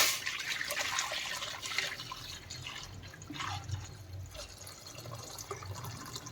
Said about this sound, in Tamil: வடிகட்டி வச்ச தண்ணியை வந்து இதில் எடுத்து ஊற்றிக்கலாம்